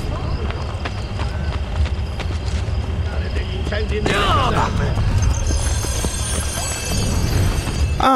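Horse hooves clip-clopping at a run in Assassin's Creed Brotherhood on PS5, a steady rhythmic patter over game ambience and music throughout, with speech in the clip.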